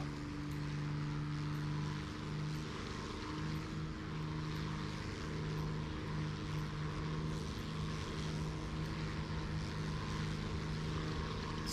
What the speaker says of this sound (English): My most favorite plane.